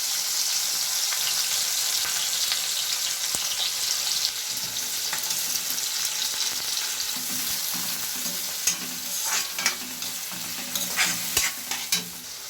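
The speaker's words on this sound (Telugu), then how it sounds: "ఉల్లిపాయలు, పచ్చిమిర్చి, టమాటాను అయితే బ్రౌన్ కలర్ వచ్చేంత వరకు వేయించుకోవాలి." Onions, green chilies and tomatoes frying in a pan for an eggplant curry, a loud continuous sizzle with stirring and occasional sharper spatters toward the end.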